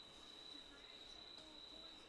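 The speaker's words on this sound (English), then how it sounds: "I think those are crickets" Night crickets chirp faintly in the background as a steady high-pitched trill that runs throughout, with soft talk in a room underneath.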